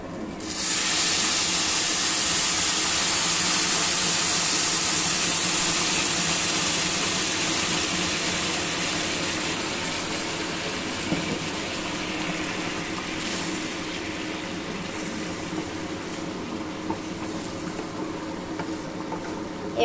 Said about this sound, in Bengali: এবার দিয়ে দিব এর ভিতরে গরম জল।